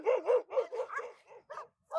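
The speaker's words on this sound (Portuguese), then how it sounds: "Sai, cachorro! Cachorro!" A dog barking close by in a rapid burst of loud, yipping barks, about eight in two seconds with short gaps.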